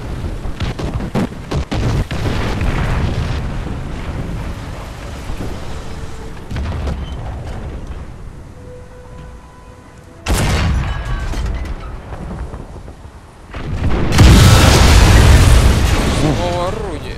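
Tank cannon shots and explosions in the video game War Thunder, with SU-85 and KV-2 tanks, heard as loud booming blasts, one sharp burst midway and a heavier rumbling blast near the end, over continuous engine drone and players talking.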